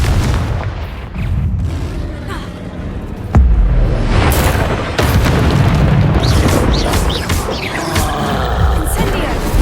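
Fire-blast spell explosions in Hogwarts Legacy, loud booming blasts and bursts over a rumbling combat backdrop, with a voice calling out spells between impacts.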